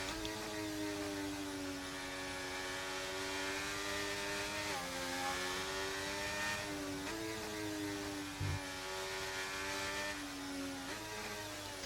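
Race cars in a racing video game roll through a formation lap at a Netherlands circuit, their engines a continuous droning whine that rises and dips slightly in pitch, loud and close with no talking.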